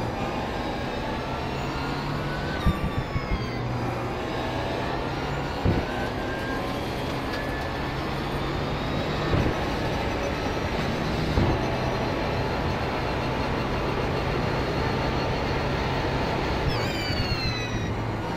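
The Audi R18 e-tron quattro LMP1 prototype's engine in the iRacing simulator gives a continuous high, whining drone. Its pitch rises and falls as the car accelerates and brakes around the track, with a few brief knocks along the way.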